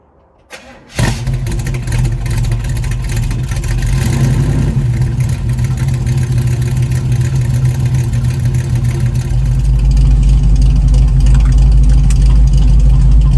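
A 1936 Chevy coupe's engine cranks and catches after a brief moment, then settles into a loud, steady, close idle that deepens slightly toward the end.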